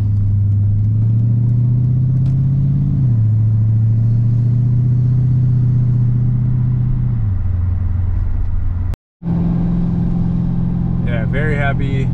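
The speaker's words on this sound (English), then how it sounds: "as soon as I fired up and it got, you know, idling and everything, it just seems like it's running smoother" Mercedes M113K supercharged V8 with new EV14 550cc injectors and fresh seals, idling steadily just after its first start; a loud, even low rumble with a slight dip in idle speed and a brief cut near the end, under occasional talk.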